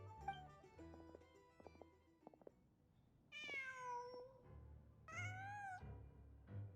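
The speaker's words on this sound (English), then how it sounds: "Just a cat." A cat in the Genshin Impact video game gives two clear, drawn-out meows a second or so apart, after soft game music, with no talking.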